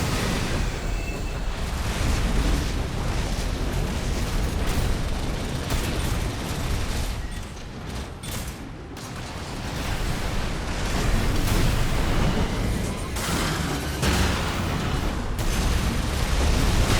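Missile explosions in a melee-build video game roar continuously as dense, loud booms and rumbling blasts, with a brief dip midway before the heavy barrage resumes.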